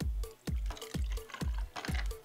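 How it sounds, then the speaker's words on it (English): Vodka is poured into a Collins glass for a Greyhound cocktail in a series of glugging pulses, about five regular gurgles from a bottle, close and clear with no talking. "we'll just go ahead and pour in our vodka"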